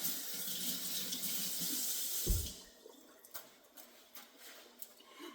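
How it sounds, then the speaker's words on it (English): Hands washed under a running kitchen sink tap, a steady close gush of water that stops partway through, followed by a few quiet clicks and handling sounds. "here, I'm at the sink. I'm gonna give my hands a wash"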